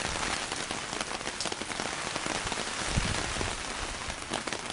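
Heavy rain pours steadily onto a surface, a dense, loud, continuous hiss with scattered drops pattering throughout and no voices.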